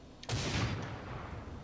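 A single heavy, booming gunshot from a powerful gun in the video game Line of Sight, a sudden close blast that rolls into a long rumbling decay.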